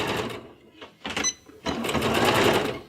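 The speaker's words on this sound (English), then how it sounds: "give it a back stitch" A sewing machine runs in short bursts then a steady longer run, stitching back and forth to lock a seam at the top of a fabric bag; close and fairly loud.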